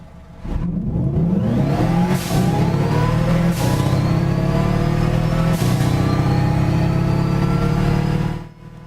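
A 1966 Volkswagen Beetle 1200 in the Gran Turismo 6 racing game accelerating hard, the engine note rising steadily through several gear changes, each shift marked by a brief dip before the revving climbs again, loud and close.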